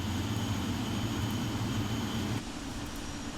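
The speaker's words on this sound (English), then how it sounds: "It's that weird whine." Boeing 777-300ER jet engine in the Prepar3D flight simulator game, a continuous low rumbling roar with a thin high-pitched whine above it, steady and fairly loud, dropping slightly in level partway through, without talking.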